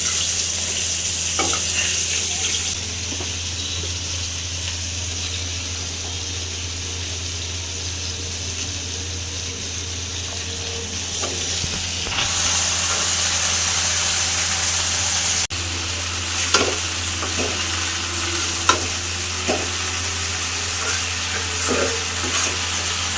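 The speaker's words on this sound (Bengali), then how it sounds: "দেখেন মাছ ভাজাটা আমি চুলায় দিয়ে দিচ্ছি।" Fish frying in a pan on a home kitchen stove, a steady low sizzle running throughout, with occasional stirring, scraping clicks and brief water or utensil sounds.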